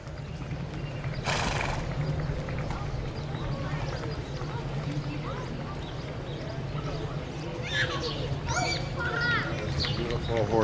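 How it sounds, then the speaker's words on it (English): A horse being ridden in a Memorial Day parade moves along outdoors with a steady hum of crowd and engine noise, a brief whinny-like burst early and scattered voices and children nearby. "Beautiful horse that she's riding."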